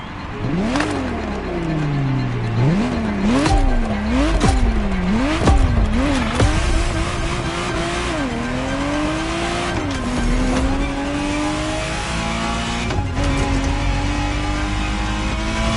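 Ferrari Testarossa in a racing video game: a loud engine revving up and down through repeated gear shifts, with tire squeals and skids layered over the steady roar, continuous and close throughout.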